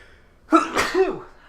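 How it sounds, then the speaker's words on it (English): A single sharp human sneeze bursts out after a brief quiet lead-in, close and loud, trailing off into a short voiced tail. "If I can stifle this sneeze"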